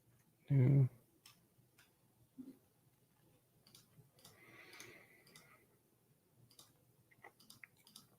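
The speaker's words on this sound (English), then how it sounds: "Guess you heard my mouse clicking." Soft, scattered clicks of a computer mouse sound in a quiet room, preceded by one brief louder thump.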